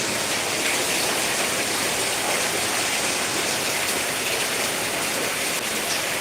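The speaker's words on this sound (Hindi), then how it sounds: "बारिश हो रही है, हाँ दिखा रहे हैं आपको।" Heavy village rain falls in a continuous loud hiss and roar, steady from start to finish, with nothing else standing out.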